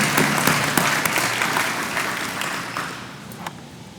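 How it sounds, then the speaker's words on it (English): Audience applauding for the sponsors at the Blossom Trail Ceremony in Fowler, steady clapping from a crowd that slowly fades toward the end, with a few sharper individual claps standing out. "Let's give a bigger applause to our sponsors"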